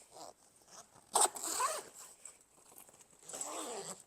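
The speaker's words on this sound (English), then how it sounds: "Let me unzip it." Short, quiet zipper pulls open the front panel of an Onli Travel bag in a few scratchy bursts, nearby and alone.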